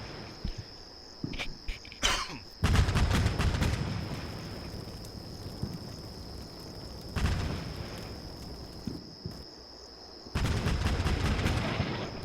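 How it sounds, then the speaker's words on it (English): Artillery shells land in a naval video game battle, with booming impacts and sharp reports in bursts separated by quieter gaps, over a constant high electronic whine. "Oh no, that's artillery."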